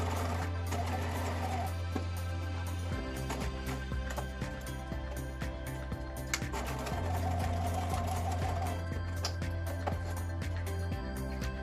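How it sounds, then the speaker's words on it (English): A home sewing machine stitching through all fabric layers of a pair of shorts along a rectangular line runs as a steady, fast mechanical whirr close up, briefly slowing and changing pace at pivots, with no voices. "just sew through all layers over that rectangular stitch line"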